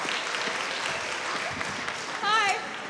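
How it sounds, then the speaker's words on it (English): Audience applause after a sponsor thank-you at a high school choir spring showcase, a steady wash of clapping throughout, with a brief whistle-like tone and a voice rising near the end. "Give them a round of applause"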